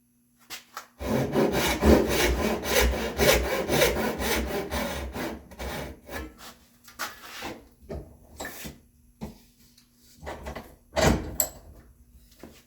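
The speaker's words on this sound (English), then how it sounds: "We're going to take our crosscut saw and cut down the sides here." A crosscut saw rasps back and forth through the sides of a wooden shelf joint in a steady run of close, loud strokes, then slows to scattered short cuts and taps.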